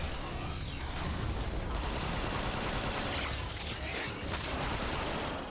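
Rapid sniper and automatic gunfire crackles through a dense, continuous wash of mechanical game noise, with shots blending into a steady loud din that never drops away.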